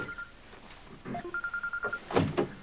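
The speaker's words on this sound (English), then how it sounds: "Oh, it's your bloody phone." A mobile phone rings in a home with a quick series of short, evenly spaced electronic beeps, after some soft thuds and a door-like knock nearby.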